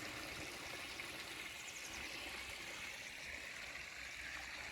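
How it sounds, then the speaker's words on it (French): A garden river flows in a steady, even rush of water, a continuous broadband murmur with no breaks, moderately close and unaccompanied by voices. "La rivière."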